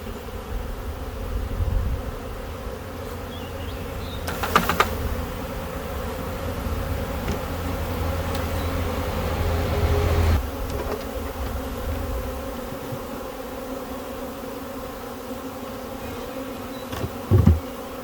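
A swarm of honey bees being dumped into a hive box hums in a steady, dense drone throughout, with a few brief louder bumps and knocks rising above the buzz.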